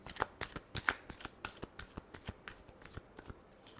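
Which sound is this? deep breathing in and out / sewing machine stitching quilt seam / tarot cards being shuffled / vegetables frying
tarot cards being shuffled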